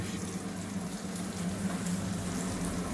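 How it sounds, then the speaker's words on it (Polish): Burger buns fry in a pan with a steady, close sizzling hiss that holds evenly throughout, with no talking. "A, posmażyć bułki trzeba."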